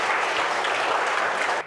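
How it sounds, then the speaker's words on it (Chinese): Warm applause from a village audience at an anti-fraud awareness event, dense and steady clapping that cuts off abruptly near the end. "热情掌声鼓励下方"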